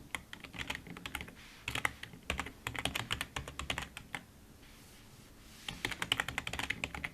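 Rapid clicking keystrokes on a computer keyboard as an email address is typed, moderately close, in uneven bursts with a short pause near the middle.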